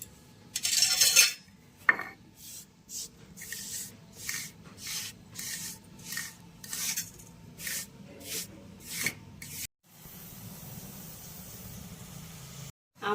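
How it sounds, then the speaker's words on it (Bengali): Cumin seeds being crushed by hand into a coarse powder for a roasted mango drink, a run of short rough scraping and rubbing strokes in a fairly steady rhythm, close and moderately loud, with no talking. "জিরাটাকে একটু গুঁড়ো করে নেব।"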